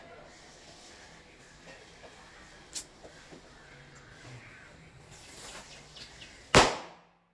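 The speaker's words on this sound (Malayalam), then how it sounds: "അങ്ങനെ പടക്കം പൊട്ടിക്കലൊക്കെ കഴിഞ്ഞു" A quiet stretch with a few distant pops during Vishu festival celebrations, then one loud, sharp firecracker bang near the end that rings out and fades.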